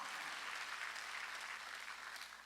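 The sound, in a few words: congregation clapping during church sermon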